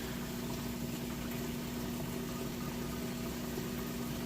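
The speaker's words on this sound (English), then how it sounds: "You can hear it draining that water out nice and fast." A Maytag HE washer pumps out water at the end of its wash cycle, giving a steady low mechanical hum with a faint watery churn, constant and moderately quiet throughout.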